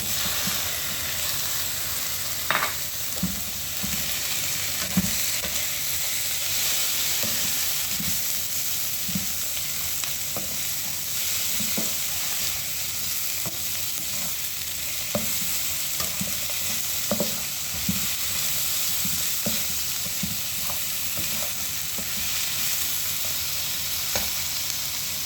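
Tomatoes fry in a pan with a steady soft sizzle, broken by repeated scraping stirs and clinks of the utensil against the pan throughout, close and alone.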